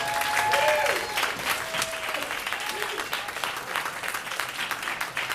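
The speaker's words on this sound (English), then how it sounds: "keep that applause going as I bring up our next comic, Loris Jarvis Jr." A comedy show audience applauds steadily, dense clapping that peaks at the start and holds on, with a few faint voices and whistles mixed in.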